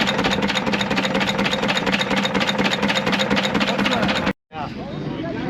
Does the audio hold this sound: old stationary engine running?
yes